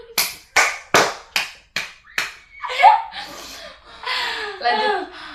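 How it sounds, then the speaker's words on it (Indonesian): Six sharp hand claps in an even rhythm ring out close by during a casual podcast chat, then give way to laughter and talking voices. "Kasih tepuk tangan."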